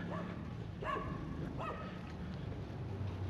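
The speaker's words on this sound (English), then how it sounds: "There are puppies. Puppies!" Puppies yapping on a street in Belize City, a few short high barks and yips over steady outdoor background noise.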